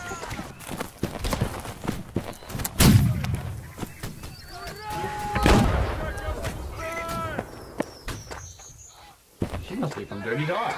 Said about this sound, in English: Let's use this cannon on him